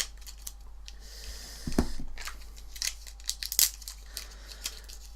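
Scissors snipping and cutting into the plastic packaging of an Odyssey mod vape kit, a few short crisp cuts with crinkling plastic, close and fairly quiet, no talking.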